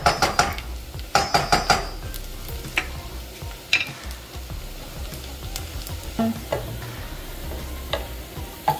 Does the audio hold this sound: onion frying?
yes